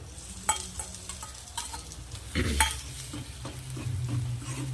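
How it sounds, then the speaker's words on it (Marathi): Finely chopped tomato sautés in a pan, the spatula stirring and scraping through it in several close strokes over a steady frying sizzle. "याला पण छान असं परतून घ्यायचं आहे हे बघा टोमॅटो आपल्याला थोडा सॉफ्ट झाला आहे"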